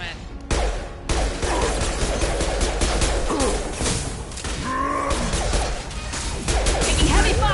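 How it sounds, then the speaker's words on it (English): Heavy gunfire in a Mass Effect 2 firefight: dense, rapid bursts of shots and impacts crackle close and loud almost nonstop, with brief shouted voices and effects mixed into the din. "Taking heavy fire!"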